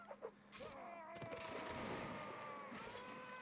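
Supporting gunfire in a line battle video game, a cluster of sharp shots early followed by a dense, continuous crackle of volleys and rumbling reports, moderately distant.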